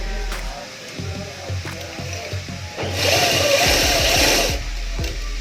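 A sewing machine stitches a kurti's neckline strip, running in short clattering bursts with pauses, then a longer steady whirring run before stopping.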